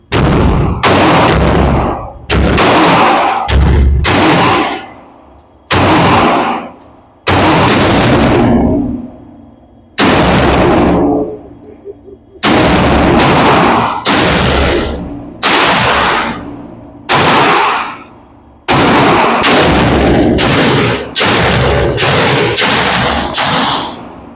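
A GQ Armory Paladin 6mm ARC carbon rifle firing 108 grain ammunition, loud close sharp shots in a steady irregular string of about twenty rounds, each with a booming decay, no talk.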